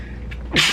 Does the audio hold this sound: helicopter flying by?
no